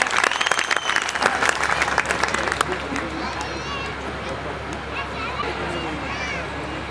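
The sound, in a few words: audience applause at a poetry gathering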